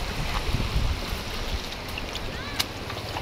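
A large, swollen river runs beneath a bridge in Alanao, Lupi, Camarines Sur, a continuous broad rushing wash of water with no voices, loud and steady throughout.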